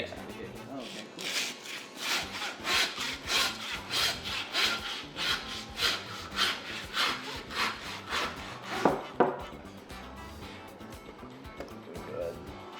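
A saw cutting through a pig's shoulder bone with a steady run of rhythmic rasping back-and-forth strokes, followed by a couple of louder scrapes and softer handling noises.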